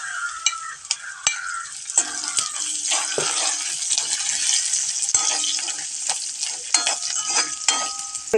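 Curry leaves sizzle in hot oil in a pan for banana stem pickle, cooked with small onions and ginger. A steady crackling hiss runs under repeated clinks and scrapes of a spoon stirring.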